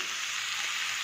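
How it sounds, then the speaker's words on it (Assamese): Pork with tomato frying in a pan, a steady, even sizzle of crackling fat that stays close and constant throughout with no voices. "বিলাহীখিনি দিয়াৰ পিছতো আমি 5 মিনিটমান ভাজি ল'ম।"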